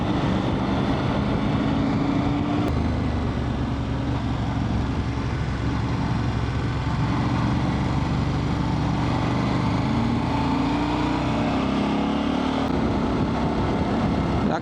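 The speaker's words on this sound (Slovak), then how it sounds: "sedím na tej správnej motorke konečne" A Triumph motorcycle engine drones steadily during a test ride near Jaklovce, a continuous loud hum with wind rush and slight shifts in pitch over about fifteen seconds, with no speech.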